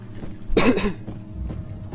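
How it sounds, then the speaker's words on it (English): A single harsh cough bursts out near the start, close by, followed by quieter rustling and low background noise. "Sorry about the coughing."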